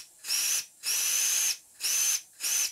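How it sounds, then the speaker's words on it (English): A model steam boiler blows off at its 60 psi working pressure: four bursts of loud hissing steam with a thin whistling tone on top, each about half a second, separated by brief silences. "now the boiler's blowing off at 60 pounds per square inch, which is its working pressure"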